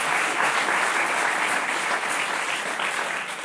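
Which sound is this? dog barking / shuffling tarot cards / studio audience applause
studio audience applause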